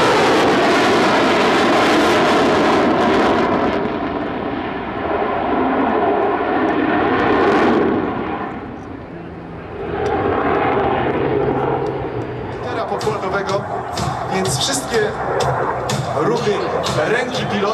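A Mirage 2000C jet fighter roars past loudly in an air show flyby, its broad engine noise swelling and then fading, while a voice speaks over the top.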